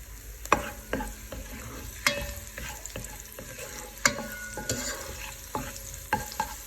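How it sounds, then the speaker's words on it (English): A tablespoon of diced garlic frying in oil for garlic herb roasted potatoes, a soft steady sizzle close by, broken by sharp scrapes and clinks of a utensil stirring the pan. "to this oil, I'm going to be adding in, since it's garlic herb roasted potatoes, a tablespoon of diced garlic"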